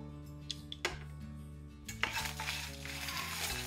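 Coriander, cumin, fenugreek seeds and dried chillies dry roasting in a pan, with a few light clicks and a scrape, then a soft rising rattle and hiss of stirred seeds over a low hum.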